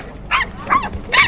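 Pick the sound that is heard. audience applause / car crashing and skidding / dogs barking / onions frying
dogs barking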